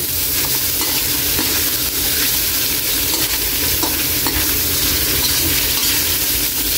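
Pork offal and intestines for Visayan-style dinuguan frying in a pan, with a loud, dense, continuous sizzle and stirring that fills the whole clip.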